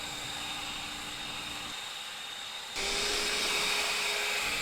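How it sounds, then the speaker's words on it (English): Enhulk 930 cordless leaf blower fitted with its siphon nozzle on the turbo setting: a loud, steady high-pitched jet whine that shifts abruptly partway through and then roars even louder and harsher. "So this is that siphon nozzle again on the turbo setting."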